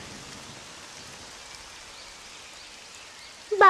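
Cartoon rainfall makes a steady, soft, even hiss throughout, fairly faint and close, with a short louder burst of sound right at the end.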